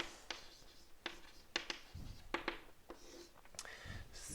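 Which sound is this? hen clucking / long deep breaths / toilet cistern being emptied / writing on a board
writing on a board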